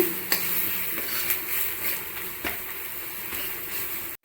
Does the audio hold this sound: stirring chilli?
yes